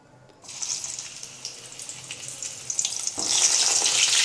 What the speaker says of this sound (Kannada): ಸೊ ನೋಡಿ, ಇವಾಗ ಎಣ್ಣೆ ಕಾಯ್ದಿದೆ.